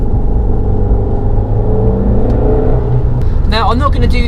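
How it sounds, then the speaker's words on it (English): A steady, loud car engine rumble from an Abarth 500 hatchback, a low droning exhaust note that holds throughout, with a brief higher whine near the end. "I literally bought it for that exhaust note"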